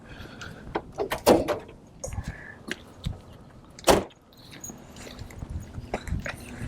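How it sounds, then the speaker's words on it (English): Several sharp clunks and clicks of a 2011 Ford Crown Victoria Police Interceptor's door being handled, with a loud latch pop near the start and another a few seconds later. "I gotta pop the door"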